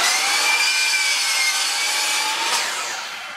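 A power saw cuts steadily through a wooden board held square against a fence, a loud continuous whine and rasp that stays close, then eases off slightly near the end as the cut finishes.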